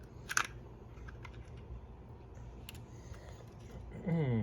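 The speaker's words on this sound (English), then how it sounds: "I'm going to take this little screw out here to remove the spring" A small screw is worked out of the wheel assembly of an iRobot Roomba S9, giving a few faint, sharp clicks and ticks over quiet room tone, with a voice starting up right at the end.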